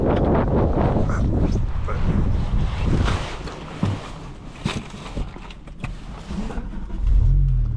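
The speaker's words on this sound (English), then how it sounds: "let's go fire up this M6" A 2007 BMW M6 with a V10 engine fires up and runs, producing loud, close, rumbling engine noise that is mixed with wind buffeting on the microphone, with a deep low swell near the end.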